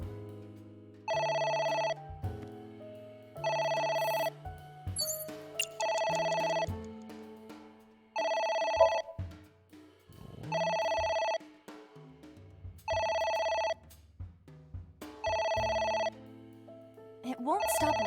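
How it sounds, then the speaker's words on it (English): A telephone rings in the video game AI: The Somnium Files, a repeated electronic ring in regular bursts with pauses between, under intermittent background music and sounds. "It won't stop ringing."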